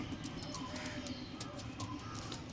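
Pigeons coo softly in a loft, low repeated burbling calls close by under faint chirps and a steady background hum.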